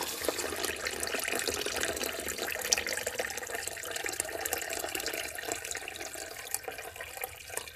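Water pours steadily and hisses into a container holding heavily tarnished silver wrapped in aluminum foil, a continuous close splashing rush without pause.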